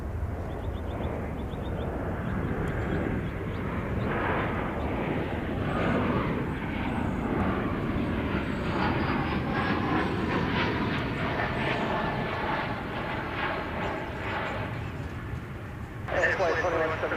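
Beech C-99 cargo plane operated by Ameriflight departing DFW Airport for Omaha, its engines a steady broad roar building through the clip with a rising tonal whine, heard under ongoing talk.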